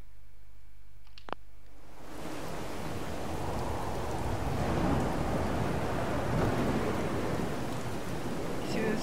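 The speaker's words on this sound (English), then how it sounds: "See the lightning, and the thunder is very low now. Did you hear that? Now it's more like a distant rumble." In Fallout 4 with a storm weather mod, after a brief click, a steady wash of rain begins with a low, distant thunder rumble rolling underneath, moderately loud and continuous.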